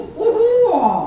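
A person imitates a barred owl's hooting call with their voice, one sustained rising-then-falling hoot phrase, close and clear with no other sound.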